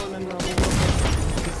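Bomb blast in Fortnite going off at close range, a sudden broad boom that rolls into a sustained rumbling crackle of debris and gunfire-like noise.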